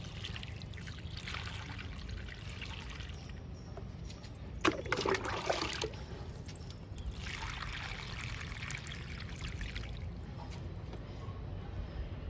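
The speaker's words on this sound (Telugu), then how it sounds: "వాటర్ ఇస్తున్నానండి మునగ మొక్కకి." Water trickles steadily onto a moringa plant in a home garden, a soft continuous pouring and splashing at moderate distance with faint background noise throughout.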